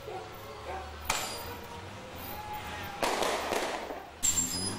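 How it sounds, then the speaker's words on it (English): Fireworks crackling in a Bolivian mountain village as an expedition sets out, a few sharp bursts and crackles with short gaps between them, heard with a voice speaking over them. "To the crackle of fireworks"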